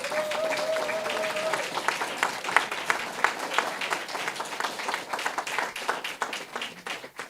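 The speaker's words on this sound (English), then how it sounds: "Let's just give you a round of applause" A conference audience at a post-hurricane reconstruction forum in Jamaica applauds, dense clapping that builds and holds for several seconds, with a brief tone early on and a few louder individual claps standing out near the end.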